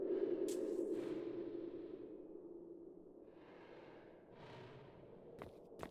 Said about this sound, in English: the most common way to figure out which door is real is to go up and listen for breathing that sounds like this